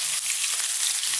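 Ginger fries in hot roasted sesame oil, giving a bright, continuous hiss and crackle that stays loud and close for the whole brief moment, with no voices.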